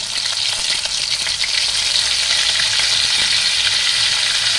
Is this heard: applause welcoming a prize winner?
no